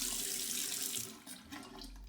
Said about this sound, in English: Now I'm gonna rinse the wand in hot water inside and out.